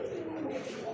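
Pigeons coo at a pigeon seller's stall, a short, steady, low murmuring call that sounds close and continuous for about a second.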